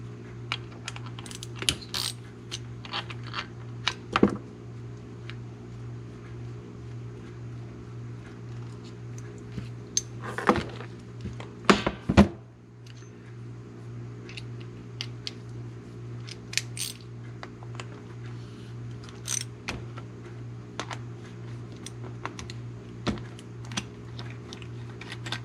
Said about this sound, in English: I use these nifty 3-inch Allen wrenches with a socket driver that works on my socket wrench.